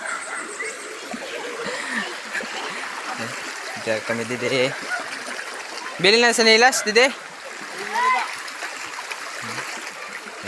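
River water rushes and splashes nearby in a steady stream, while several people chat and call out over it, with bursts of louder splashing in the middle.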